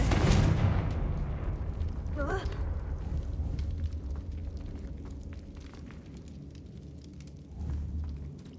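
Confringo blasting-spell explosions in the Hogwarts Legacy video game: a loud burst at the start, another crackling blast midway and a late boom over a constant low rumble of game ambience.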